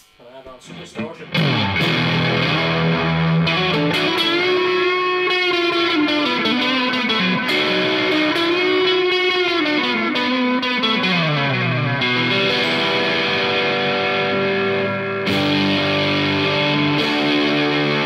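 A distorted electric guitar through a Caline Ghost Rain reverb/delay pedal plays sustained, bending melodic lines drenched in echoing delay and reverb, loud and continuous for the whole stretch.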